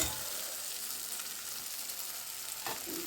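Sautéed tomatoes in a pan with masala spices just added, turmeric, chili powder and chicken masala for an egg curry: a steady, dense sizzle and fry throughout, with a brief stir or clink near the end and no talk.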